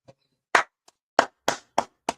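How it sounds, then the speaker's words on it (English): A congregation at a Sabbath service claps in a handful of sharp, separate bursts spaced unevenly, loud and close, with near silence between them. "Go ahead, clap it up."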